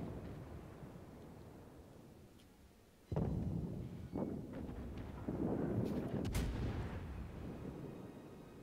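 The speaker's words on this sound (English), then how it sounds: "I love how we're all just firing AP at them." Warship guns fire armor-piercing shells in a naval video game, two sharp booming blasts and then a rolling volley, heavy and loud over a low wind-like rumble.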